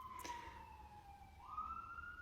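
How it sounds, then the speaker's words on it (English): A faint, distant emergency vehicle siren wails from far off, holding a steady tone that slowly dips and then rises again over a quiet background, with no voices. "There's a siren."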